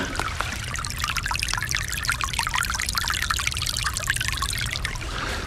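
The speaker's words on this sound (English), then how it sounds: "This is the here we go, the most relaxed sound of the day. The stream." Small stream flowing outdoors, refilled after rainfall, making a steady close trickling and pouring rush that carries on evenly throughout with no talk.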